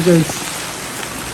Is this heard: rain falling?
yes